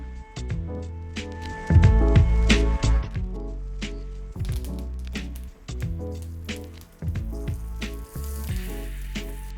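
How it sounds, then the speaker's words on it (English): Loud, close sizzling of turnip top leaves and garlic sautéing in hot olive oil, with irregular crackles and bursts of spitting as the greens are moved around the pan. "I'm just going to saute a few of the turnip top leaves with a little garlic on my fork, a little bit of olive oil"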